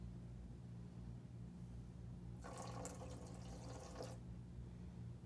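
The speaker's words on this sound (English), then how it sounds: "The next thing we're gonna add is half a cup of warm water." Half a cup of warm water poured into a slime mixture, a short splashing trickle lasting under two seconds that starts abruptly and stops just as abruptly, fairly faint and close against a quiet background hum.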